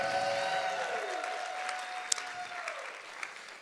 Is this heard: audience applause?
yes